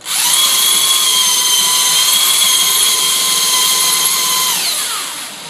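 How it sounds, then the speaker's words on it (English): A power drill with a mixing paddle stirs a bucket, whirring at a steady high pitch, loud and close, running continuously before winding down at the end. "Put the drill through there."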